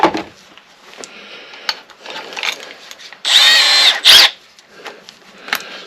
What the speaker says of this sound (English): And then while I got my drill here